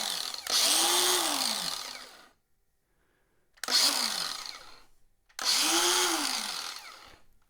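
A DeWalt 18V cordless angle grinder on a 1.5 amp battery spins freely with no load in three loud, close bursts. Each burst starts with a quick rising whine and winds down once released, with short silences in between.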